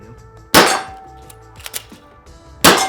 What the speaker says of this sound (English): if I full press this button, both mags will come out